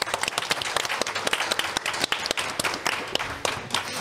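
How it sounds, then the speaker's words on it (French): An audience applauds to welcome a guest onto a discussion show, with sharp, distinct claps from nearby hands over a fuller crowd clatter, lively and continuous. "Et là je vais vous demander d'applaudir."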